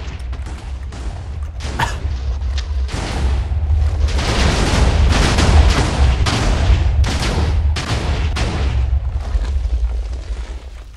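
A loud, rumbling explosion in Minecraft with crackling debris and repeated heavy blasts that swell and then slowly fade.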